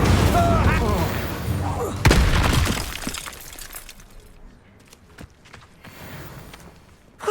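A loud burst like a shattering, booming spell blast erupts amid dramatic voices, then trails off into scattered crackles and quieter sounds.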